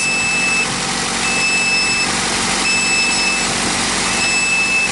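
A car engine idles steadily, loud and constant, after being started with an Anker portable jump starter, with a faint high whine over the drone.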